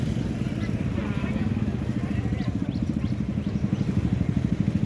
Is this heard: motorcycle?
yes